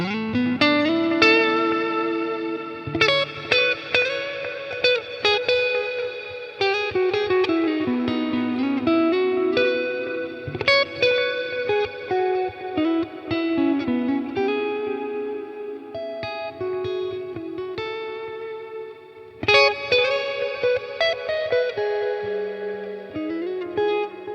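Electric guitar playing chords and melodic lines, drenched in reverb and delay so notes ring out and echo, with a slightly driven tone throughout.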